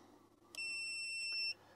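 A continuity tester gives one steady, high electronic beep lasting about a second while probing a wire on a KT 48V e-bike controller, with faint background hum and no talking.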